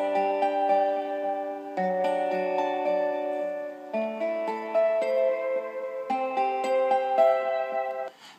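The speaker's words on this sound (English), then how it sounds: "The first instrument we hear is instrument sound rather is a sound called the swamp guitar" A twangy synthesized swamp guitar sound plays a cheerful melodic line with sliding notes over sustained chords, steady and moderately quiet, no voices.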